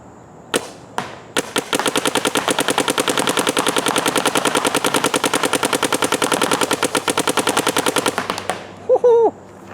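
A paintball marker fires HK Army tournament paintballs in a long, rapid, steady burst of loud sharp shots close by, after a couple of single opening shots, ending abruptly.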